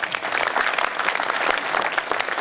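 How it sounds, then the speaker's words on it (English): Steady, dense applause from a studio audience at a comedy panel show, loud and continuous for the whole stretch with no talking over it. "Round of applause, ladies and gentlemen."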